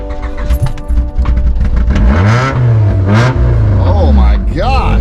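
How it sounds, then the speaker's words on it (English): A 1997 Honda Accord wagon engine cold-starts and revs, its mid-pitched hum rising and falling in close, loud swells while people talk over it. "Cold start on the old Honda."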